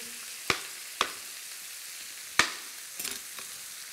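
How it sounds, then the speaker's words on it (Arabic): Garlic frying in a pan gives a faint, soft sizzle, broken by a few sharp clinks and scrapes of a utensil stirring it, with no talking. "ما انا بقلب كده عشان مش عايز الثوم يتحرق"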